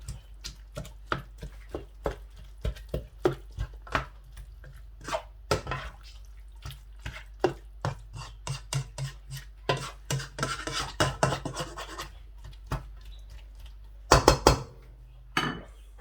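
Shimla mirch keema being stirred in a pan with a utensil, giving repeated scraping and clinking strikes in an uneven rhythm, close and fairly loud, with no talking.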